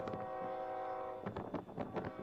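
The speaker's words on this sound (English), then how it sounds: "here comes our eastbound UP train at Belle Plaine" An eastbound Union Pacific freight train led by three NS ST70M locomotives passes at Belle Plaine, rumbling steadily while a loud, sustained horn chord sounds over it, with rattling wheel and car noise swelling in the second half.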